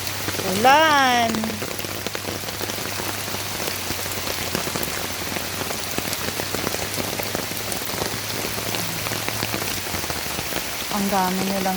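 Steady rain patters on a surface in rural Pilar, Bohol, Philippines, a dense hiss of drops close by, with a brief voice near the start and again at the end.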